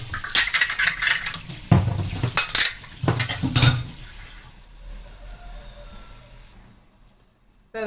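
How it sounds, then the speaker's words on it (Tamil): Metal clatter and clinks from a pan of okra frying in oil as the lid goes on, a few close bangs in the first seconds, then quieter handling fading to near silence. "இப்போ லிட்டு போட்டு மூடிடலாம்."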